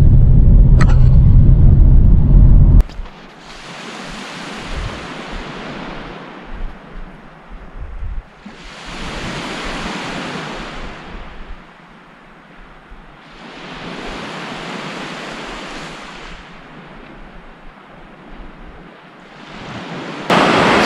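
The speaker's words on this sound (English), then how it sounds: "So I did come to the beach, why not?" Waves wash in on a quiet Lake Superior beach, rolling surges breaking and receding in slow repeated swells every few seconds, with light wind noise and a louder bump at the start.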